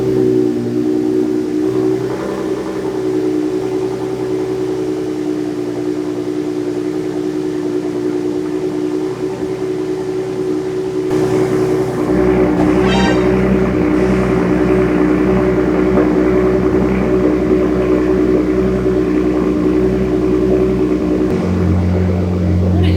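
A 2023 Ford Raptor 3.5 EcoBoost, tuned on E85, idles loud and steady after a cold start, with a deep, rough exhaust drone that shifts character midway and again near the end.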